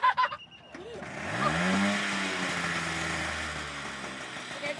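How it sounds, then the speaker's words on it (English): Car engine running and revving up, rising then settling to a steady drone, heard from nearby with a few sharp knocks at the start. "Right, I can get the engine."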